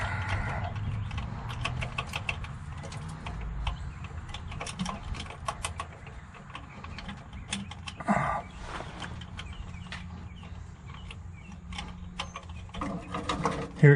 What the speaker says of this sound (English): Let's take the ratchet off.